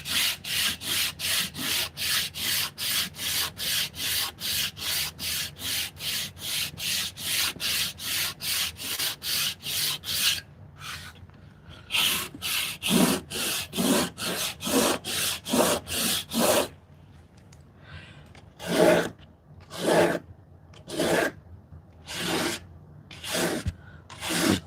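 Hand tool carving a wood bevel for a mallet, strong rhythmic rasping strokes in a fast steady run, then slower separate passes after a brief pause, close and loud with no talk.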